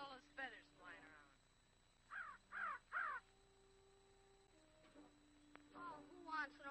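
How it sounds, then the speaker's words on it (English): A crow caws three times in a quick harsh run, loud and near, with faint voices and a steady background hum around it. "Oh, who wants an old crow anyways?"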